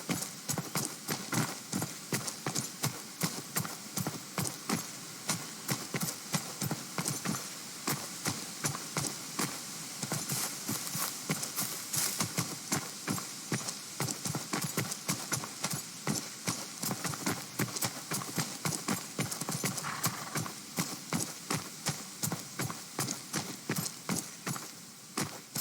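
Horse hooves clip-clop steadily in a Robin Hood building video game, a continuous rhythmic trot that runs loud and close for the whole stretch with no talk over it.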